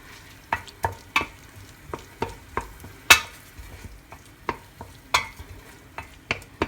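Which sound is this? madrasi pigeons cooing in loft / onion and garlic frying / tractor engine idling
onion and garlic frying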